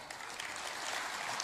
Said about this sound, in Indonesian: tepuk tangan untuk Pak Ara